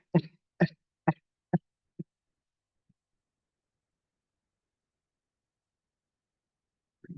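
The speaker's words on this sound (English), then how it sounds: "Cough out." Five short, sharp coughs in a quick series, each fading a little, followed by silence and a faint breath at the end.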